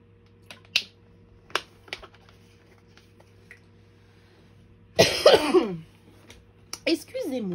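A person coughs once in a short, harsh burst near a desk, with sharp taps and clicks scattered before and after, then a smaller throat sound at the end.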